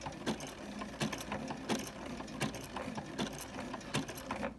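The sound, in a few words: sewing machine back stitching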